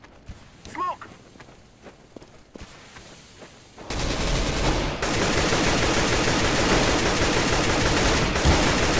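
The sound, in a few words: gunfire in the video game Counter-Strike: GO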